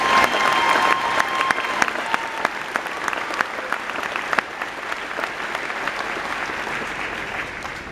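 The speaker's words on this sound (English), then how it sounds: "Let's give them another round of applause." Audience clapping for a senior choir at a graduation ceremony, a dense burst of many hands that holds steady and then slowly thins toward the end.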